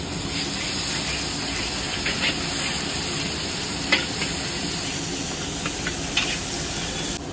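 Ginger fries in a pan while being stirred, giving a steady soft sizzle with occasional scraping ticks of the utensil and a faint high whine in the background.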